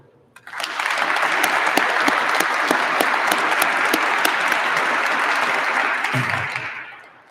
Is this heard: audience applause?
yes